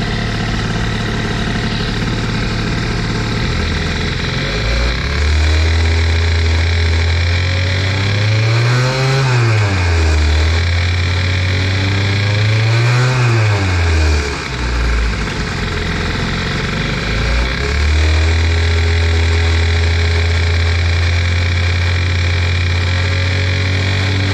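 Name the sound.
Doppler moped engine revving to about 6000 rpm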